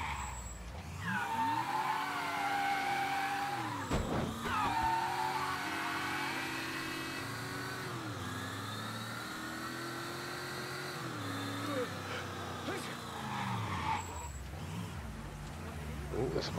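Sporty car engine in the Mafia 3 video game, a sustained revving drone with rising and falling pitch and tire squeal, loud and continuous across the clip.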